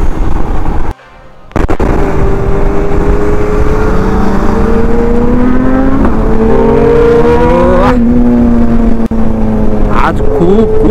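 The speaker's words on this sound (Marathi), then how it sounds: "आज खूप जास्त रायडर्स आहेत आणि सगळ्या सुपर बाईक्स आहेत" Group of superbikes, including an Africa Twin, a Ducati and a Z900, riding together on a morning ride, engines droning loud and close with rising and falling revs, a brief drop near the start and a pop near the end.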